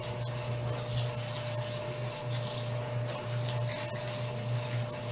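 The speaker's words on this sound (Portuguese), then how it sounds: "Estou enxaguando bem." Running water pours steadily while laundry is rinsed at home, making a constant close splashing rush with a low pump-like hum underneath and no voices.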